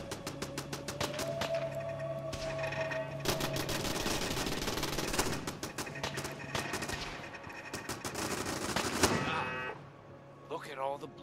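Rapid video game gunfire from a zombie survival game, dense bursts of automatic shots over a steady background tone, with a voice speaking briefly near the end.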